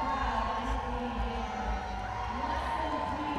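Roller derby crowd at a 2011 championship game between the Oly Rollers and Kansas City Roller Warriors, with Kansas City Wolf Pack fans giving a steady, distant roar and cheer in the arena while talk continues on top.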